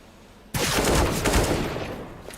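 A sudden, continuous burst of loud rifle fire from the Counter-Strike video game, heard in a grand-final esports match, starting abruptly after a quiet moment and rattling on steadily before easing slightly.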